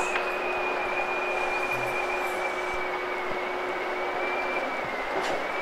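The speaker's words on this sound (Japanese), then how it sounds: "それでは富雄駅通過いたします。" A Kintetsu Nara Line train running through Tomio station heard from on board, a steady loud rail rumble with a faint sustained whine, continuous throughout and without speech.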